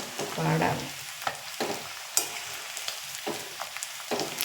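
Beef masala frying in hot oil, a crackling sizzle broken by repeated stirring scrapes and clinks, close and fairly loud with no voices.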